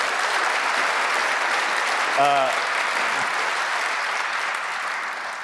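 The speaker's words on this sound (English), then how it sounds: "round of applause, please" An audience at the global premiere of the Jaguar I-PACE electric car claps steadily throughout, a dense even wash of applause that tapers slightly toward the end, with a brief voice over it.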